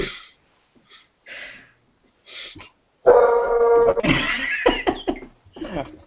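A dog barks and yips in a few short bursts, with whimpering and coughing-like sounds, close and loud, separated by brief silences.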